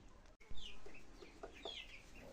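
Several chickens cluck softly nearby, scattered short clucks and brief squawks over a quiet background.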